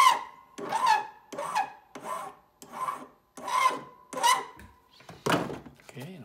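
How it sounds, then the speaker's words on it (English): Hand file rasping across a hand-fabricated metal pendant in eight even, separate strokes, each a close, gritty scrape with brief pauses between. "I'm going to attempt to file this."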